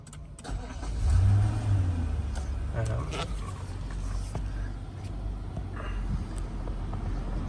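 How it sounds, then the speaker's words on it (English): A 2014 Nissan Patrol engine cranks and fires, surges in a short rev, then settles into a steady idle rumble from inside the car. "I'm just going to get in and turn the car on."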